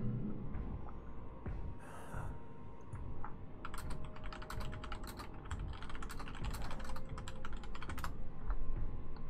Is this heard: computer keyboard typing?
yes